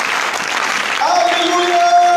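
A church congregation cheering and applauding for Jesus, a broad wash of clapping and crowd noise filling the space, with a voice rising over it in the second half.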